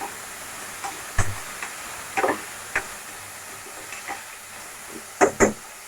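Onion, tomato and capsicum sautéing in a pan, a quiet steady sizzle with a few sharp scrapes and clinks of a spoon against the metal, the loudest pair near the end.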